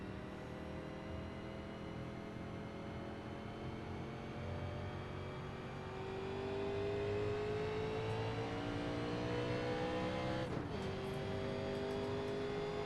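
Sustained engine drone from a 1987-era NASCAR stock car lapping Darlington in the iRacing sim, a steady harmonic whine that rises slightly in pitch partway through as the car accelerates, with a brief transient blip near the end.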